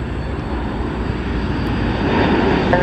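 Airplane arriving at Bali airport, a loud continuous engine roar that swells slightly toward the end, heard from nearby with no talking.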